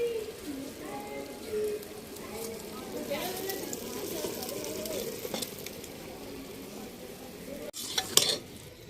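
Minced meat fries with peas and green chillies in a village kitchen in Punjab, giving a soft steady sizzle as it is stirred, with a scrape and clatter near the end and someone talking over it.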